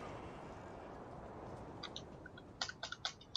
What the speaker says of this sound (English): You can hear me bashing the bloody keyboard